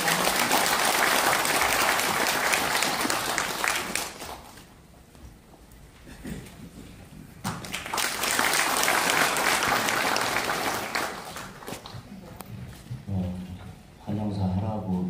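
Applause from a seminar audience welcoming a National Assembly member to give opening remarks at a policy seminar on completing the administrative capital of Sejong, dense clapping in two long swells with a quieter lull between, a voice briefly speaking near the end.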